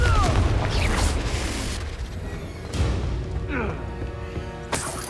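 A Confringo spell in Hogwarts Legacy bursts with a booming explosion followed by crackling, swooshing magic effects and a second sharp impact near the end, with a voice speaking over it.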